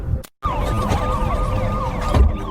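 A police car siren from a crime drama wails steadily with sweeping, wavering tones, loud and close, filling the scene without any talk.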